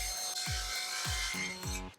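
A handsaw cuts a straight line down the middle of a wooden board, a few steady rasping strokes at close range, with a rough, uneven rhythm and no voices.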